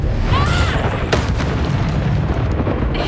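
Confringo fire-blast spell exploding in Hogwarts Legacy, a loud booming burst with a crackling impact, then a rumbling tail over dense low-pitched game noise.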